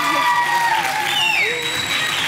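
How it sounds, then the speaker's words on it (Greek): Audience applause after a waltz performance at a dance competition, a continuous roar of clapping and crowd noise with whistles and calls rising over it, voices talking underneath. "Ένα πιο δυνατό χειροκρότημα, νομίζω αξίζει τους."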